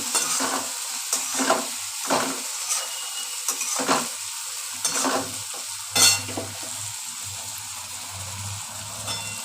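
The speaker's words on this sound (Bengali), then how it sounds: "আদা বাটাটা দিয়ে দিচ্ছি সব দিয়ে নাড়াচাড়া করছি" Ginger paste and spices being stirred and fried in a pan for a Bengali fish curry: a soft continuous sizzle with repeated scraping strokes of a spatula, close up, plus a low hum in the background.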